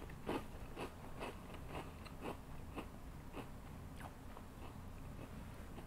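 Ketchup potato chips crunch between the teeth in a steady run of sharp, close bites, about one every half second, quiet and alone without talk.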